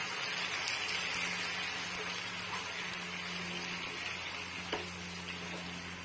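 Pieces of bata fish being laid one at a time into mustard paste in a pan and frying, a steady soft sizzle with a few small crackles, fairly quiet and without voices.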